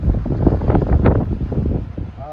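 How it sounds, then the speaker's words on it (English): A strong headwind buffets the microphone on a golf course at the Suncadia Resort Prospector Course, a loud, gusty rumble that rises and falls throughout, with some low talk mixed in. "we got a really aggressive headwind"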